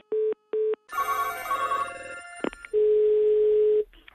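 A landline telephone sounds loud and close: two short beeps, then an electronic ringing burst, a few clicks, and a long steady tone that stops abruptly.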